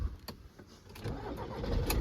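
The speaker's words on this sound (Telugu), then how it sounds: "సో నేనైతే ఇప్పుడైతే ఇంజన్ అయితే స్టార్ట్ చేస్తున్నా" Volkswagen Vento Highland automatic car engine starting: a brief crank and catch, then a low engine settling into a steady idle, fairly quiet and without talk.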